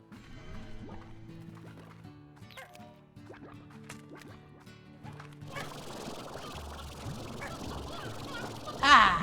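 Rooster crowing and fowl squawks from Slime Rancher mix with game music, chimes and liquid-like drips, building toward a busier, louder clatter near the end.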